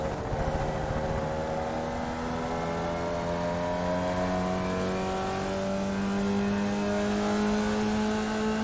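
Formula Vee race car at Rudskogen, its engine note rising steadily as it accelerates through the gears, a sustained close-up onboard drone with climbing pitch and no talking.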